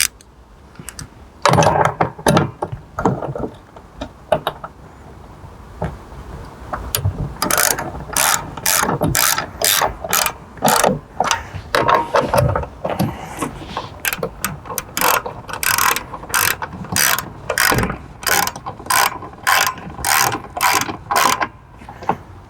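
A ratchet wrench lightly snugs bolts while a slider suspension system is installed, giving bursts of rapid, close clicking, sparse at first and then dense, with short pauses between runs.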